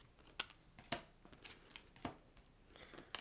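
Tarot cards being shuffled by hand, a series of quiet, crisp riffles and slaps in irregular bursts, close and faint, with no talking.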